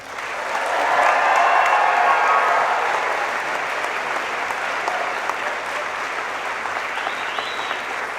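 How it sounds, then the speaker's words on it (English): A graduation ceremony audience applauds and cheers in a large hall, a dense, sustained wash of clapping that swells in the first seconds and then holds steady, with faint voices mixed in. "I think your guests deserved a big cheer like that."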